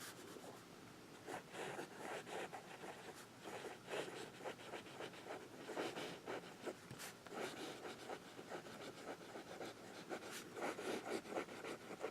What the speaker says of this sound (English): Now let's write with the pen as it was meant to be used.